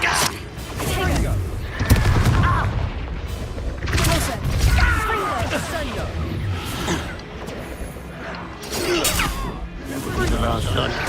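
Confringo explosive spell blasts in Hogwarts Legacy combat: repeated booming impacts and crashes over about eleven seconds, with a player shouting over the battle.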